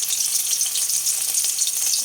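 Dried sapsap fish (tuyo) frying in a pan, a steady close hiss and crackle of oil with dense popping that continues unbroken, no voices.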